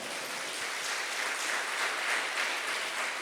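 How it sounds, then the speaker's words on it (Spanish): Church congregation applauding during a sermon, a steady, moderately faint wash of clapping that holds evenly throughout without any voice over it. "Dale un fuerte aplauso"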